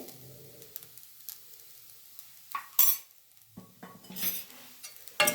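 A spoon stirs black pepper powder into a dish in a pan, giving soft scraping strokes with a few sharp metallic clinks against the pan over a faint sizzle. The sounds come close and intermittent, with no talking.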